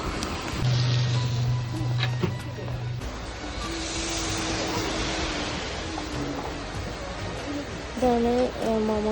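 Steady evening rain in Wayanad, Kerala, makes a dense broadband hiss throughout, with a low engine hum and brief tonal honks over it, and a voice is briefly heard near the end.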